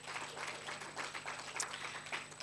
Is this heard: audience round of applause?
yes